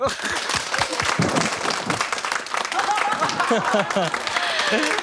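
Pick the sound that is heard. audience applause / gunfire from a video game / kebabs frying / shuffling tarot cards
audience applause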